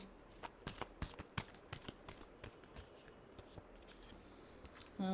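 Tarot cards shuffled by hand, a close, quiet series of riffling flicks and soft taps in uneven bursts, ending with a brief louder rustle.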